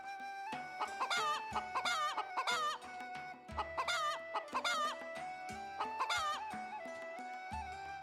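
Chickens in the video game Ranch Simulator cluck and squawk in busy, repeated bursts, close and fairly clear, with overlapping calls from several birds and no voices.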